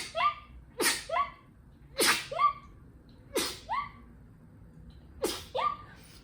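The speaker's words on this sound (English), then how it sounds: "Yes, that is my real actual sneeze." A person lets out a rapid series of five high-pitched, squeaky sneezes, each a sharp burst with a quick intake, spaced about a second apart.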